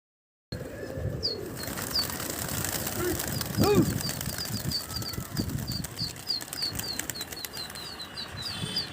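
Racing pigeons flying over Agra on a very windy day, with steady fluttering wingbeats throughout, a brief low coo partway through, and faint chirps over constant wind noise.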